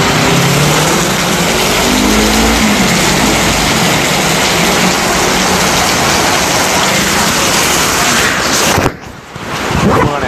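Heavy nighttime rain pours down at Ben Thanh Market in Saigon, a loud steady hiss, with wind buffeting the microphone, that drops out abruptly near the end.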